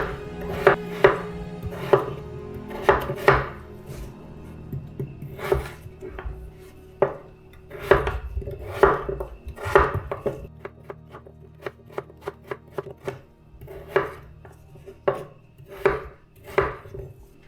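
Potatoes diced with a knife on a cutting board, a close series of sharp, irregular chopping knocks in quick bursts with short pauses between runs.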